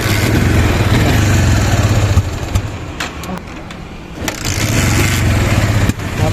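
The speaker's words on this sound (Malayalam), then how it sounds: "ബൈക്കിന് ഭയങ്കര മിസ്സിങ്." A misfiring motorcycle engine, running rough on a night food-delivery trip, drones loud and close, then sputters and dips before revving back up, with uneven pops breaking through the steady rumble.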